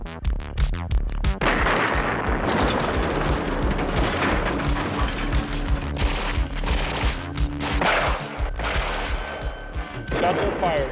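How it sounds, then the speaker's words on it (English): Gunshots in a 1984 action movie shootout: a loud opening burst of rapid shots, then continuous heavy gunfire and crashing bangs ringing on nearby, with scattered sharp reports toward the end. "Shots are fired."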